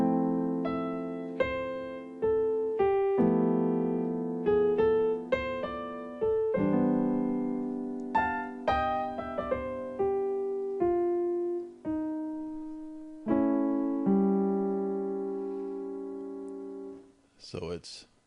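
Piano with both hands playing a 2-5-1-6 chord progression using rootless voicings, slow sustained chords and melodic runs ringing out, ending with a brief sharp noise.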